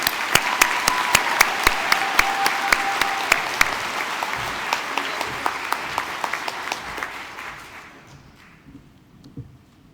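A graduation crowd claps for the graduates, a dense burst of applause with sharp individual claps standing out, gradually thinning and fading away to quiet over the last couple of seconds.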